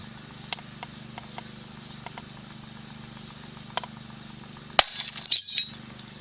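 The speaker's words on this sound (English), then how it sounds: "At first glance, it appears that the glass breaker worked without" A car window pane shattered by the small glass-breaker tool fitted to a Swiss Army knife: after a low steady hum with a few faint taps, one sharp loud crack is followed by a brief burst of tinkling, falling glass fragments.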